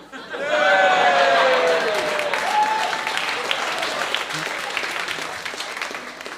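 An indoor audience bursts into loud, dense applause that swells quickly, holds, then gradually thins out over several seconds, with a brief vocal whoop near the start.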